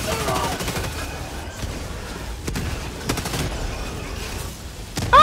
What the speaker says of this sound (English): I don't really know where to shoot at it with the autocannon.